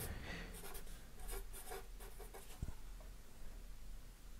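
Chalk or marker writing on a board during a physics lecture, a run of short scratchy strokes in quick bursts with a brief knock partway through, fairly close over a steady room hum, no talking.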